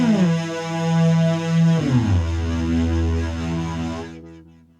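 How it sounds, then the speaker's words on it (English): An FL Studio synth bass with glide mode held while a note two octaves up is added, so the pitch slides smoothly between notes before holding and fading out, loud and alone. "if we hold this bass and go up 2 octaves, it's gonna sound like this with the glide mode on"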